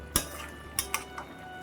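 A utensil scraping and knocking in a pan while stirring potatoes and taro stems: a few sharp metallic clinks and taps spaced irregularly over a soft background, close and fairly quiet, with no talking.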